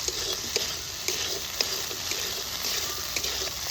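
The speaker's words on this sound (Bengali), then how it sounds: "এখানে আমি দিয়ে দেবো দিয়ে এটাকে ভালো করে কষিয়ে নেবো মশলার সঙ্গে" Potato and pointed gourd frying with spices, cashews and raisins in a pan, a steady close sizzle with soft clinks of stirring tapping at intervals over the bubbling, with no talking.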